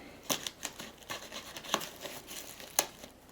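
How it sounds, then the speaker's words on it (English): Packaging of an Xbox Series X console being cut open, with several sharp snips and crinkles of cardboard and foam at irregular intervals, close and fairly quiet, with no talking. "So I'll cut this open carefully."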